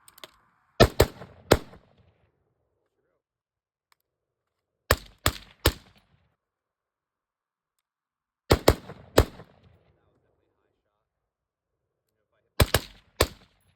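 Unsuppressed handgun shots fired during Mozambique drills at an outdoor range, sharp loud cracks in tight bursts of three, repeated four times with silent gaps between them.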